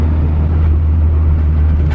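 A turbocharged Honda Civic EG Type R cruises on a street with a steady, loud low engine drone and road rumble from inside the cabin, smooth and unchanging.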